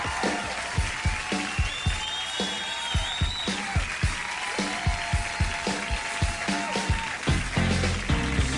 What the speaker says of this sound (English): The audience applauding along as if this were a hoedown